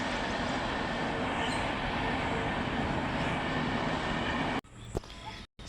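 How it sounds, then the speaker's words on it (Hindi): A train rolls past near a railway station, a steady, dense rumble and rushing clatter that holds for several seconds before cutting out abruptly into near silence. "सामने में रेलवे स्टेशन है ना, इसीलिए ट्रेन की आवाज़ आती रहती है।"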